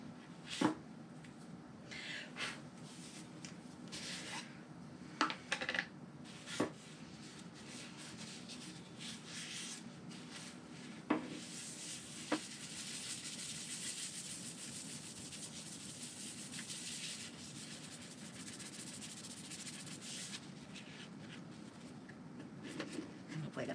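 Yorkshire Grit abrasive is rubbed against a spinning blank of epoxy and apple wood on a lathe, producing a quiet, continuous friction hiss with a few sharp knocks early on and no talking.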